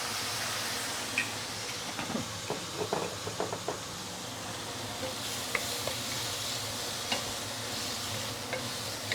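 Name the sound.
soya sauce prawns sizzling in wok with Shaoxing wine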